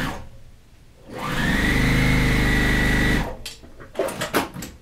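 An electric sewing machine stitches a strip onto a Court House Steps quilt block. It runs in one steady whirring burst of about two seconds, then stops amid light handling noises.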